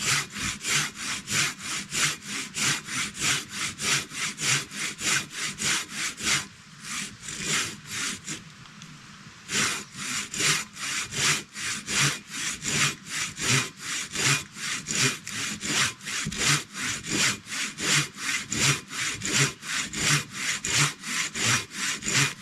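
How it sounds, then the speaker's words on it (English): A Katanaboy 500 folding saw cuts through wood out on a trail, its rapid, even back-and-forth strokes rasping close and loud, with a short pause midway before the rhythmic sawing resumes. "I can hear the saw starting to close up."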